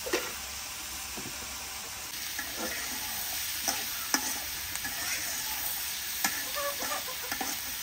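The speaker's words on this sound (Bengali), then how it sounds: "পেঁয়াজ ভাজা হইতে হইতে" Onions sizzle with salt in a pan as the base for water spinach, a steady moderate fry broken by sharp stirring clinks and scrapes, with faint rural background sound.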